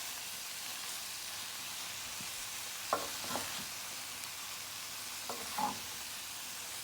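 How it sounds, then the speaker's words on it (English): A veggie stir fry sizzles steadily in a pan, a constant frying hiss broken by a few scraping stirs of a spoon midway through, close and fairly quiet, with no talking. "I'm gonna take my time and gently mix this in with the veggies."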